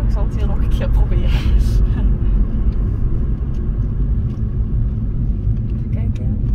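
A three-door MINI Cooper S engine revs and pulls with a low continuous rumble, rising and easing slightly over several seconds, heard from inside the car alongside bits of talk and brief faint background noises.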